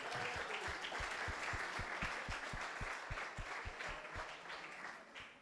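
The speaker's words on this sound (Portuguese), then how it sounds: "As palmas louvam o Senhor." Rhythmic, steady clapping from a church congregation during a family worship service, evenly paced beats that continue throughout and soften slightly toward the end, with no clear speech on top.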